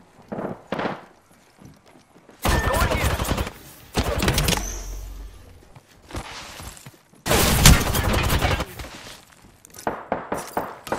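Gunfire in the video game Apex Legends, with loud bursts of rapid automatic shots in several separate volleys and a few shorter crackling shots in between.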